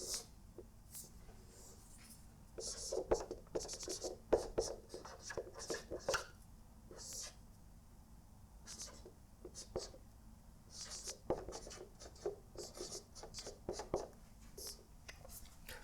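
Chalk or marker writing on a lecture board during a Laplace transform lesson, heard as faint, quiet scratchy strokes in short bursts with brief gaps between them.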